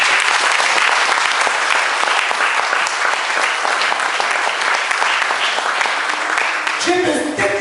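A church congregation claps loudly and steadily in sustained applause throughout, a dense continuous wash of hands, with a brief voice emerging near the end.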